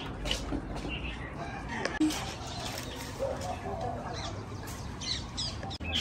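Roosters kept for cockfighting cluck and crow in Honolulu, Hawaii, heard at a moderate distance amid ambient outdoor noise and people talking nearby.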